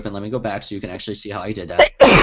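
One sharp, loud sneeze bursts out right after a man finishes a sentence during a presentation.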